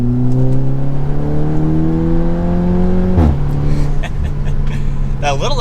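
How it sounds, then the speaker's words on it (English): An Audi S3 with a stage 1 tune and its exhaust valve open revs hard, the engine note climbing loudly for about three seconds before dropping back with crackles and pops from the exhaust. "Now let's go to dynamic mode, and we'll turn my exhaust valve on."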